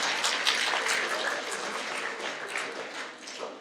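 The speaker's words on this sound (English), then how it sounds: "give yourselves a round of applause" Audience applause at a community civics bee event, a dense, steady wash of clapping from a crowd that holds for several seconds and tapers slightly at the end.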